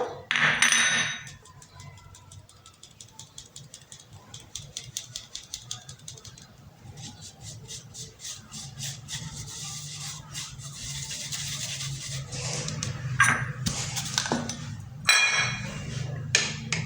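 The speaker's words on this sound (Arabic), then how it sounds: "دابا انايا غادي نغربل هاد 2 معالق ديال الكاكاو" Soft, continuous scratchy rustling of cocoa powder being sifted through a fine mesh sieve, with occasional light metallic taps and clinks.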